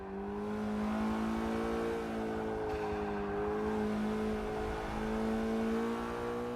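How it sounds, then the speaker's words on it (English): All-wheel-drive hatchback launching off the line in Forza Motorsport 6, its engine droning with a strong, steady tone that climbs through the revs with a brief dip mid-pull, alone and fairly loud. "It launches off the line exceptionally well as per usual."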